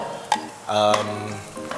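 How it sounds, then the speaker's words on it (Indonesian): Shiitake mushrooms fry in a small amount of oil, giving a steady close sizzle with scraping stirring sounds and occasional clinks of a utensil against the pan. "kita akan mulakan dengan menggoreng ya dengan minyak yang begitu minimal"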